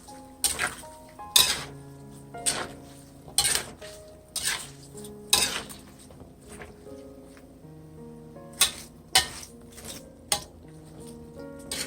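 Chopped cabbage goes into a pan of pancit bihon and is tossed with a metal utensil, giving a series of clanks and scrapes in uneven bursts with quiet pauses between and a faint sizzle beneath.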